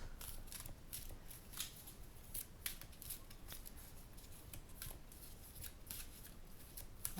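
A deck of oracle cards shuffled by hand, with quiet, steady riffling and soft slapping of cards repeated throughout, close by and with no one speaking.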